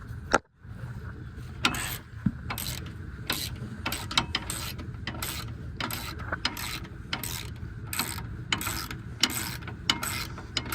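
A ratchet with a 13 mm socket on an extension loosens a bolt on a 4x4 Chevrolet Silverado during a drop spindle install, giving repeated close bursts of rapid metallic clicking, about a dozen evenly spaced strokes.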